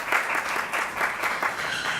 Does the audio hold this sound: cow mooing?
no